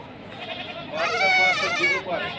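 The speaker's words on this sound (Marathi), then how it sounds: "लांब कानी मोठी शेळी आहे बघा." A big, long-eared pregnant goat bleats loudly at the Bori livestock market, one drawn-out wavering cry amid market chatter.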